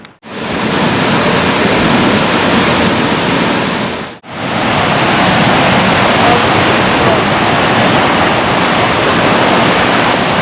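The Wawona River in Yosemite rushes beneath the old wooden covered bridge in April, a loud, continuous roar of flowing water that cuts out briefly partway through before resuming.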